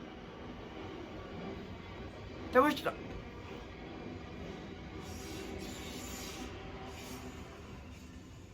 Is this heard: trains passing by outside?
yes